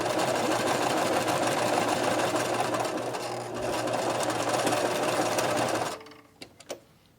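A sewing machine runs steadily for about six seconds, stitching a straight line along a fabric edge, then stops, leaving a few soft handling clicks.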